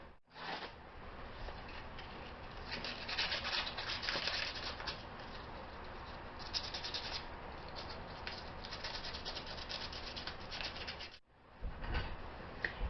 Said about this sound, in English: I'm still going to give this guy a quick sanding just to be sure I have the best surface to work with